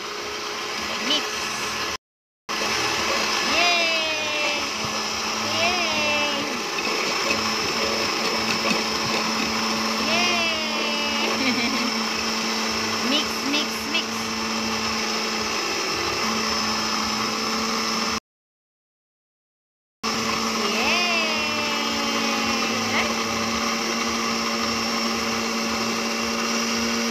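A kitchen blender whirs steadily while mixing baby food, a loud continuous motor drone with shifting pitch that breaks off briefly twice, and no talk over it.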